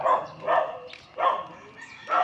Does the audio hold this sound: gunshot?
no